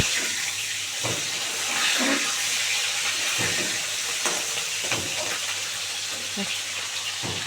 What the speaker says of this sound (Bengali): এত ফাটছে আমি ঢাকা দিয়ে দিয়েছি ফাট ফাট করে ফাটছে